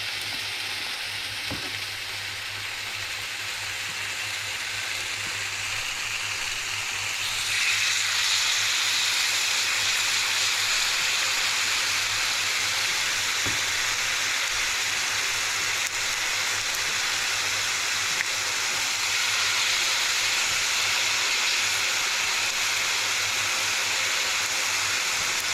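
Banana fritter batter frying in hot oil for Jamaican-style fritters, a steady, close sizzle that swells louder after a few seconds and holds with a continuous crackling hiss.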